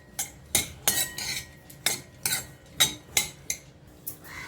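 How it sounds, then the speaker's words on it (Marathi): Cashews roasting in ghee in a pan, a spoon scraping and clinking against the metal about ten times in an uneven rhythm, close and clear, with only a faint sizzle beneath. "काजू तूप टाकून भाजून घेऊया चांगले काजू खरपूस"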